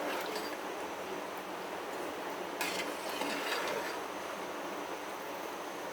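A spoon works through mutton yakhni pulao rice in a pot, giving a continuous soft scraping and rustling with a few faint clinks against the pot, steady and close throughout with no voices.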